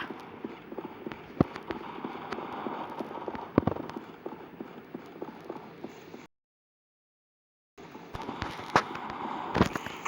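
Gunfire in the first-person shooter CrossFire: rapid bursts of sharp cracking shots and impacts cut through a dense game soundscape, stopping briefly into silence before the shooting resumes.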